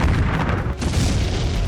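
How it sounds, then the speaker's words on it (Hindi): Heavy artillery shelling by Russian forces in Ukraine, near Soledar and Artyomovsk, as a loud continuous rumbling roar of explosions with no clear pauses. "रूस की सेना ताबड़तोड़ गोलाबारी कर रही है।"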